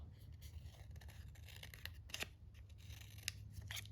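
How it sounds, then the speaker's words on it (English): Scissors cut through paper scraps with a string of quiet, close snips and crisp slicing sounds, spaced irregularly over low room noise. "I'm gonna cut just this one side out."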